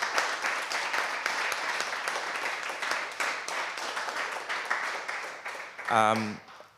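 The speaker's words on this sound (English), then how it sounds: "give a huge round of applause to Ben and Thomas, who's not here" A room of listeners applauds with steady, fairly close clapping that gradually thins out, then a short burst of voices and laughter near the end.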